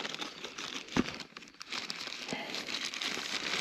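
Plastic bag crinkling and rustling close by as it is tugged off a carabiner while perch fishing with a spoon lure outdoors, a continuous crumpling texture with one sharper snap near the start.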